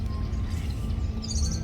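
Birds sing at a wetland daya near Dar Bouazza, home to some 200 bird species; high chirping phrases come in a cluster near the end over a steady low background hum, fairly faint and with no talk.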